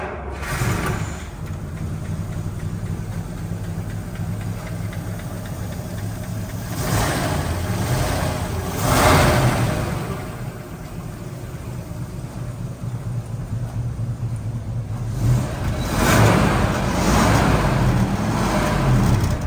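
A 1961 Rolls-Royce Silver Cloud II, Radford Countryman adaptation, settles into a smooth, steady idle after starting, its engine note low and even, with a few brief swells in revs throughout.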